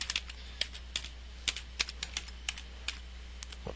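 Crisp keystrokes on a computer keyboard while HTML code is entered, in uneven bursts of close clicks over a low steady hum, with no voice.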